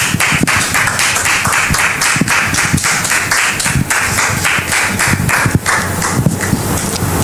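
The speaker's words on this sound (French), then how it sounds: "Public, merci de le recevoir sous vos applaudissements" A studio audience claps loudly and continuously on a French talk show, many hands close by, with a few separate sharp claps standing out and no voices over it.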